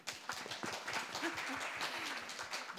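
An audience at a health and wellbeing promotion day claps after a panel discussion, a dense, steady patter of many hands lasting the full stretch, moderately distant and fairly soft.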